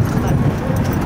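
A horse moves close by in a loud, noisy outdoor setting, its hoofbeats muddled under heavy wind and rumbling background noise.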